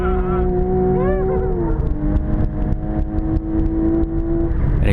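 A modern Porsche driven hard on a race track, its engine loud and close, holding a steady high note that sweeps up and down with shifts and revs, with faint tire noise beneath.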